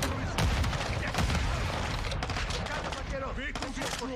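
Dense battle gunfire in Call of Duty: Modern Warfare II, a continuous loud wash of shots and explosions with a voice speaking over it.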